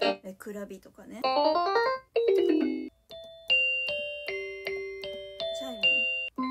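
A Kikutani KDP-61P folding keyboard plays a chime tone: after a brief stretch of talking, a series of clear, ringing bell-like notes sounds one after another, each decaying slowly, close and fairly loud.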